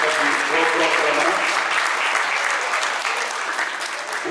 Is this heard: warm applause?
yes